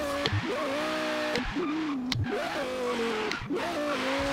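Lexus LFA accelerating hard in a wheelie attempt, its engine revving up in repeated rising surges with gear-change dips and brief clunks, loud and close, no talking.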